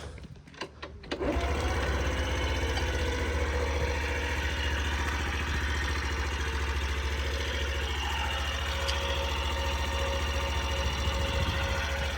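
A Honda Super Cub AA04 49cc fuel-injected scooter engine starts after a few clicks and settles into a steady, close idle with an even, rapid putter that holds to the end.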